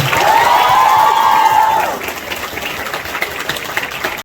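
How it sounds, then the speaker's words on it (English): A student audience at a medical college freshers day in Kohima claps and cheers, with a high whoop or whistle over loud applause for about two seconds before the clapping carries on somewhat softer. "So shall we give our top 10 contestants a big round of applause once again?"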